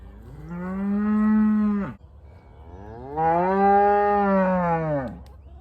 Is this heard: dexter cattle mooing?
yes